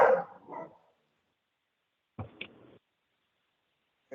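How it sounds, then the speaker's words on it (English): A dog barks indoors, a few short, moderately loud barks at the start, then another brief burst after a quiet pause, heard alone against silence. "hearing none other than my dog bark"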